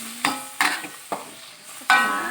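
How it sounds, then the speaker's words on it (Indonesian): Spices and ground pepper being stirred and sautéed in a pan for Aceh-style grouper, giving a few distinct scraping stir strokes over a light background sizzle, fairly close and alone. "Tumis sampai dia matang"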